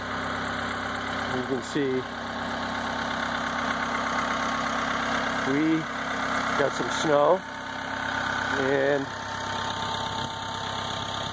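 A Mahindra 2638 tractor engine idles steadily as it warms up on a cold, snowy day, with a low continuous drone running under a voice that speaks intermittently over it.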